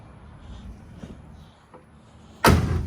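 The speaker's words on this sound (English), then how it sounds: "Door shut solid." A single solid slam as the door of a 1972 big block Chevy Nova race car shuts, sharp and loud near the end after quiet background rumble and faint handling noises.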